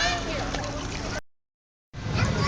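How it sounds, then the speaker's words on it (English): Warm mineral spring water bubbles up through sand in the center of a pond at Berkeley Springs, giving a steady close gurgling wash that cuts out abruptly for a moment before resuming. "this is the flow of spring water coming from the one pond that we showed you, the sand and everything just bubbling up right in the center"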